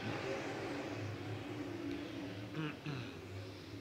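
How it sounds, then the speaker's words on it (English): Open-wheel modified race cars on a short track throttle up out of turn four, a loud steady engine roar filling the scene with faint voices mixed underneath. "The modifieds are on the gas coming out of turn number four."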